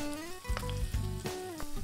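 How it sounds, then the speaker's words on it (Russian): Sizzling and crackling of onion frying in vegetable oil for ramen, with a steady tonal hum underneath and a few soft knocks. "выкладываем жариться лук"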